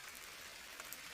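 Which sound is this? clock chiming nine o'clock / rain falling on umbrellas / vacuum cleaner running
rain falling on umbrellas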